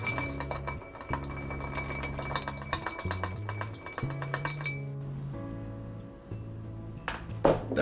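A Hanky Panky cocktail gets stirred with ice in a mixing glass: a steady run of close, rapid glassy clinks and tinkles from the spoon, which then thin out to a quieter stretch, with a few louder knocks near the end.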